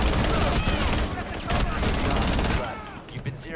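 Submachine gun fire in a Rainbow Six Siege match, loud rapid bursts of shots rattling for about two and a half seconds before cutting off into quieter game ambience.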